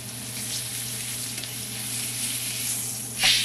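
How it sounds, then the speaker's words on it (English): A ribeye steak sears in a hot pan with a steady, close sizzling hiss under a low hum, swelling into a brief louder spatter near the end. "Just want to make sure you get a good sear on it."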